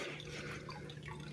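A hang-on-back aquarium filter splashes into a tank with a low water level, giving a steady, faint trickling and dripping wash of water that runs on without pause.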